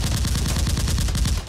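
A Nerf gun fires in a rapid, steady stream of close, loud shots with an evenly spaced rattling rhythm lasting the whole moment, with no talking over it.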